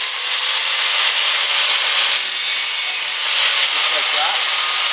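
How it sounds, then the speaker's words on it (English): Grinder taking a thin layer of slag off the back of a lawn mower blade during sharpening, a loud, steady, harsh high-pitched grinding that runs continuously throughout. "But I'm going to take one very, very slim layer just of slag off the back here,"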